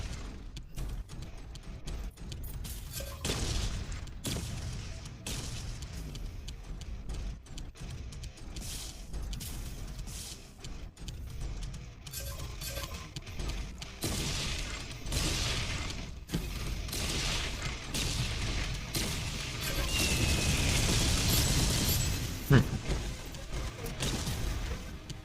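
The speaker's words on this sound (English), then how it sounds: "It's just such a nice feeling just to aim your wrist and just fire up on all these missiles." Missiles launched from a mech's wrist in the video game Heavy Metal Mecha Force, a dense barrage of booming bursts and pops with mechanical clatter, growing louder and more continuous toward the end.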